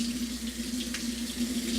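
Tap water pours steadily into a strainer of chickpeas being rinsed, a continuous close, even splashing hiss.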